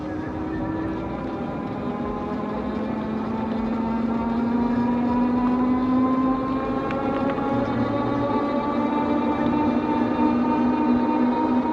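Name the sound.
Yadea Trooper 01 eBike accelerating at full throttle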